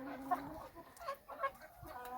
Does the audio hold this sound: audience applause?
no